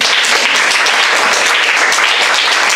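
Loud, continuous clapping from a church congregation at a Hindi-language Sunday service, a thick uniform roar of many hands close and unbroken throughout.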